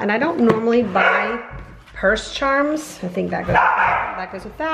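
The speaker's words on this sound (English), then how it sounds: "Sorry about the dogs." Dogs bark intermittently indoors, several sharp yips and barks heard under and between a woman's steady, close talking.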